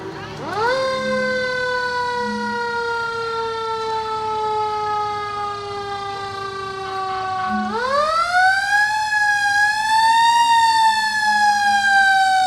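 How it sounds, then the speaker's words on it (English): A fire engine rolls through a small-town Fourth of July parade, its loud wailing siren holding a long falling tone, then sweeping sharply upward and rising again, close and dominant throughout. "and then a noisy fire engine"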